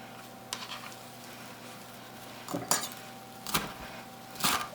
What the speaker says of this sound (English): So what I'm going to do is just chop this up.